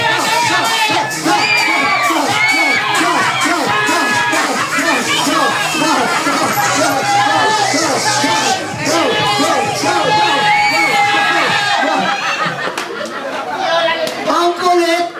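Children shout and cheer together during a party word game, a dense, loud, continuous babble of excited voices with whoops and overlapping calls throughout.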